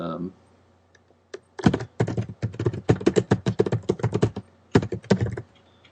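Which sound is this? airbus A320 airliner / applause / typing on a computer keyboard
typing on a computer keyboard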